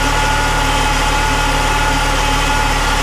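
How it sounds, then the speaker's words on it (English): A cheap Saab 9-3 Turbo with low oil pressure idles steadily up close, a continuous low engine drone with a faint rhythmic pulse and no talk over it. "But listen to the engine."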